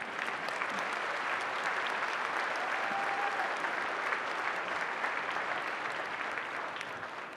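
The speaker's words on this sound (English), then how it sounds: "we can clap for Miss Johnson" An audience at a school vocal music concert claps steadily, a dense and continuous wash of applause that tapers off slightly at the end.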